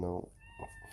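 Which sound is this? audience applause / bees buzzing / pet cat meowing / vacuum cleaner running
pet cat meowing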